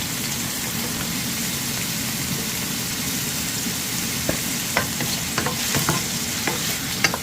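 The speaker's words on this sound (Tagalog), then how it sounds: "Habang pinipirito natin yung ibang isda," Milkfish (bangus) frying in a pan gives a steady, continuous sizzle, with a few sharp utensil clicks and scrapes near the end.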